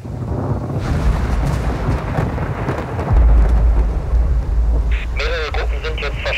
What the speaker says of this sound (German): weil es auch angefangen hat zu gewittern